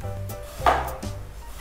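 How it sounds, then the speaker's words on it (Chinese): A knife slicing ginger on a cutting board, a few soft close taps with one sharper cut in the middle, brief and quiet with no voices. "姜切片"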